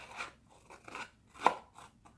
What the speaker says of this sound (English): I don't have a distressing tool, so that's why I use scissors